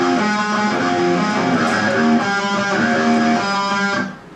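The second part of a riff on electric guitar, a loud, close, steady string of picked chord shapes up the neck, ringing for about four seconds before cutting off abruptly.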